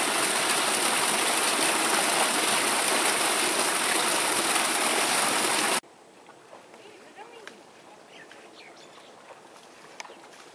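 Water gushes loudly and steadily from a solar-powered tube well pump running on two towers of twenty 300-watt panels, a broad roaring rush that cuts off abruptly partway through, leaving quieter background noise with faint scattered sounds.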